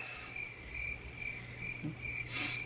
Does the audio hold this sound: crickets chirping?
yes